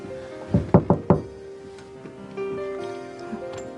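Four quick, solid knocks land on a locked bedroom door, close and loud, followed by a quieter stretch of faint household background.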